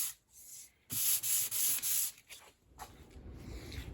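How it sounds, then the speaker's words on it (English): Hand sanding of an epoxy inlay, rendered as bursts of dry, raspy rubbing strokes: a loud run of back-and-forth passes, then softer intermittent scrapes, close and alone without speech. "And really avoid the edges when you sand this."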